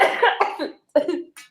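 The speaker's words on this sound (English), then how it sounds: "And I'm dying of a cough as well" A person coughs, a hoarse burst of several rough coughs, then a brief pause and another short cough, close and fairly loud with no other sound around it.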